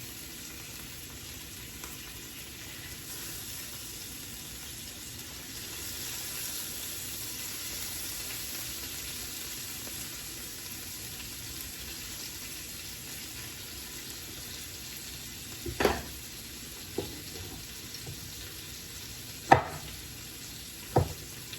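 Meatballs browning in a frying pan, a faint steady sizzle close by with a few sharp clinks and taps of a utensil near the end.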